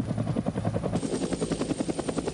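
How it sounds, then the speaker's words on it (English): An AH-1 Sea Cobra marine attack helicopter, a loud steady rotor thump with rapid regular blade chop and a broad engine roar, close and continuous with no talk. "The Sea Cobra is a marine variant of the AH-1 Cobra and forms the backbone of marine attack helicopter units."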